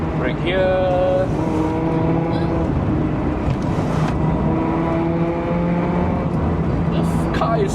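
An 18-year-old Perodua Myvi drives downhill on a mountain road to Genting, its engine droning steadily from inside the cabin with pitch shifting as the car slows and speeds up, while people talk over it.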